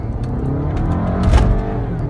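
A turbocharged 2009 Volkswagen Passat wagon with a 6-speed transmission accelerates, its engine drone steady and fairly loud, rising briefly in intensity mid-way before settling.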